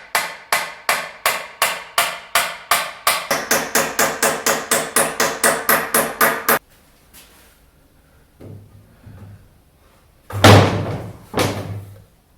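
Rapid, evenly spaced hammer blows drive nails into the wooden floor frame of a teardrop camping trailer, about twenty sharp close strikes that speed up slightly before stopping, followed by a few scattered knocks and a louder thud.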